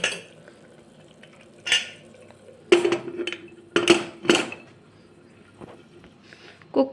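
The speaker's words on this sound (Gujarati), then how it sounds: "હવે આપણે કુકરનું ઢાંકણું બંધ કરશું." The lid of a pressure cooker is shut in a home kitchen while guvar dhokli shaak is cooked, giving several separate sharp metallic clanks and clacks, fairly quiet and close, with pauses between them.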